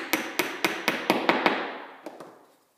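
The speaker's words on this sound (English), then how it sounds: "slide the parts together, line it up, and the dovetail key goes in" About eight light hammer taps drive a Hoffmann dovetail key into a glued picture frame joint, crisp, evenly spaced and close, each ringing briefly and growing fainter, with no talk.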